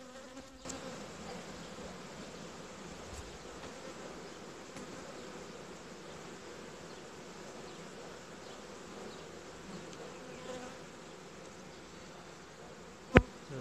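Honey bees hum around a beehive frame in a colony being checked for its queen, a soft continuous buzzing drone that stays steady throughout, with one sharp click near the end and no speech.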